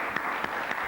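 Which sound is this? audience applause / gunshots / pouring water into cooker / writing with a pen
audience applause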